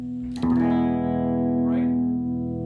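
An electric guitar is played through an amplifier with its treble turned all the way up. A single note or chord rings bright and sustained after a sharp attack and fades slowly over a couple of seconds.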